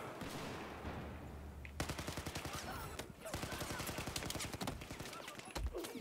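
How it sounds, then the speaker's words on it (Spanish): Rapid bursts of automatic gunfire ring out in the video game Battlefield 4, with repeated fast rattling volleys and short pauses between them. "Yo, ya sabéis, disparando a los pies."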